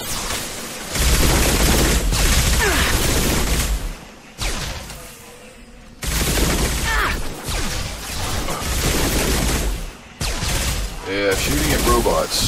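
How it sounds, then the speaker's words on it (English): Bursts of rapid gunfire and crashing impacts from a firefight against robots in Mass Effect 2, loud and dense, broken by brief lulls before the shooting resumes, with game voices mixed in. "shooting at robots, delightful fun"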